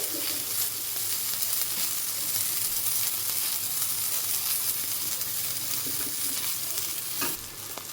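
Spice masala with tomato and salt frying in a pan, a steady close sizzle and hiss with occasional stirring scrapes throughout.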